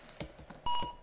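A typing tutor program gives a short, clear electronic beep near the end, after a few soft key taps.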